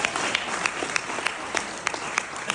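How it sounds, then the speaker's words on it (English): Wedding guests applaud at a reception, a dense, steady round of clapping from a room full of people, with a few sharper individual claps standing out. "that's a round of applause"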